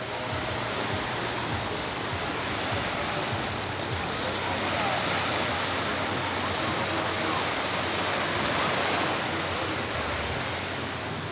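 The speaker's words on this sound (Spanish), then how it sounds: "el oleaje está tranquilo, prácticamente una que otra olita por ahí que llega, pero muy tranquilo" Calm sea waves wash steadily onto Villa del Mar beach in Veracruz, a continuous broad rushing surf with no distinct breaks, fairly loud and close.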